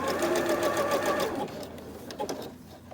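Sewing machine running a long zigzag stitch, a close, rapid mechanical clatter for about a second and a half, then slowing to a few separate clicks and thumps.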